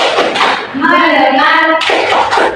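A primary class claps along in a rhythmic classroom clapping chant led by the teacher, bursts of sharp claps at the start and end around a sustained chanted voice in the middle.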